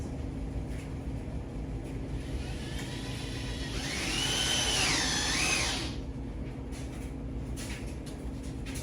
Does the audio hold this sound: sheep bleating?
no